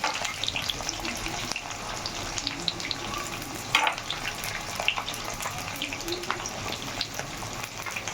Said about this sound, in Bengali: গরম হয়ে গেছে, পেঁয়াজগুলো দিয়ে দিচ্ছি তেলে।